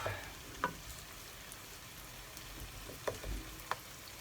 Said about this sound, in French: vous voyez bien la truffade, avec mon ail qui est en train de cuire